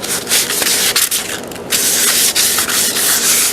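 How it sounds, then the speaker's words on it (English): Wooden kitchen cabinet doors are hand-sanded between coats of finish, producing loud, close, continuous rubbing strokes in a rough back-and-forth rhythm with a brief pause midway. "I wanted to sand these before I put the second coat on."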